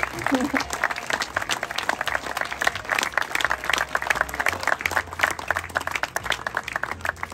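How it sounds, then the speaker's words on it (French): At a charity car rally for children, a crowd applauds the organizing team with loud, sustained, dense clapping across the whole stretch, with faint voices and a low hum beneath. "j'aimerais bien que vous l'applaudissiez, lui et son équipe"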